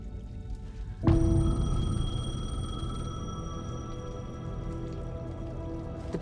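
Payphone ringing in the video game Alan Wake 2, a sudden sustained electronic ring tone cutting in after a quiet moment and lingering as a steady tone over a low ambient drone.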